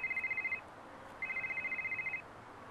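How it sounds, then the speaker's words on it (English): A telephone ringing with a fast electronic trill in two bursts separated by a short pause, fairly faint over a quiet background hiss. "In order to call me on my phone"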